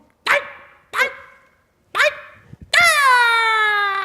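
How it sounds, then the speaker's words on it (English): A little chihuahua gives three sharp, separate yips close up, then a long, drawn-out whining howl that tapers off. "Get a deep bark for a chihuahua."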